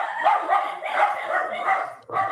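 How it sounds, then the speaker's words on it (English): Several dogs barking in a steady, continuous run of yips and barks, fairly close and loud, with a brief dip near the end before the barking resumes. "my dogs will bark all fucking day"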